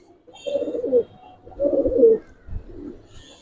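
Silver military pigeons coo in three short, throaty bursts, each a rolling low call with a slight rise, heard close and clear against a quiet background.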